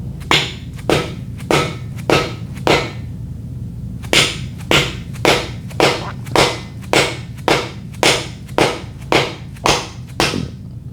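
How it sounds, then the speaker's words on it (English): Repeated sharp metallic taps of a metal hammer lightly striking a metal dipstick tube on a first-generation small-block Chevy engine, about fifteen evenly spaced hits with a brief pause partway through, close and crisp. "I'm thinking a metal hammer and a light tap"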